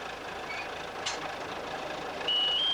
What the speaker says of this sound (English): Today, he lets me sit on the forklift truck.